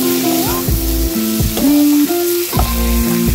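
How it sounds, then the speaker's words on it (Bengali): Ground coriander, chilli, turmeric and garam masala sizzle loudly in hot oil while a spatula stirs them, with rhythmic scraping knocks against the pan, close and steady throughout. "মশলাটা ভাজা হয়ে গেছে"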